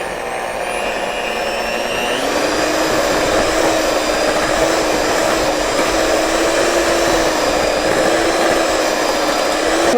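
Electric mixer whipping cream cheese for a bagel spread, a loud, steady high-pitched motor whine that shifts slightly in pitch and runs continuously without talk.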